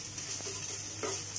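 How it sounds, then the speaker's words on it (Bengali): Minced meat (keema) for stuffed dum aloo is stirred and fried in a pan: a soft, steady sizzle with faint scraping strokes of the spoon, fairly quiet and with no voices. "কিমাটা 5 মিনিট ধরে কষবো।"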